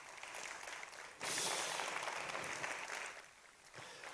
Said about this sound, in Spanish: Un aplauso a la organización, de verdad